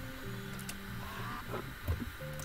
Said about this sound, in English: Oh, I forgot I had a golden printer.